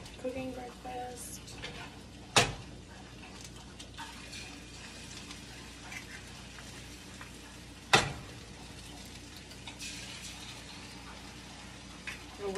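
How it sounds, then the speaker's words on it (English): Eggs fry in a breakfast pan with a steady, close sizzle and crackle, broken by two sharp, loud knocks a few seconds apart. "A weird way of cooking my eggs."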